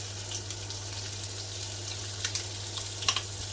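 Meat pieces crisping in a frying pan for coq au vin, rendering fat: a steady low, quiet sizzle with a few brief crackles near the end, no talking.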